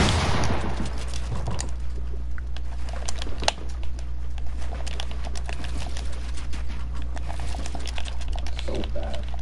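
Small, rapid gunshots in a video game ring out as a steady patter of sharp clicks throughout, fairly quiet under a constant low hum, mixed with what sounds like keyboard tapping.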